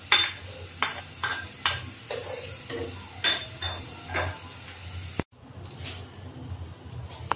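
Garlic and panch phoron spices frying in a pan, with a soft sizzle under repeated clinks and scrapes of a utensil against the pan, then a sudden cut to a quieter stretch of sizzling.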